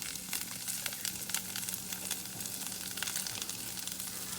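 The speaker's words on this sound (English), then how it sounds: "You hear the sizzle?" Ground turkey and vegetables sizzle steadily in a hot pan, a continuous crackling hiss at moderate level with no voices.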